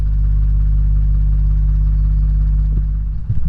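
A narrowboat engine idling out of gear, a loud, steady low diesel throb that holds even throughout, with a few knocks and bumps near the end.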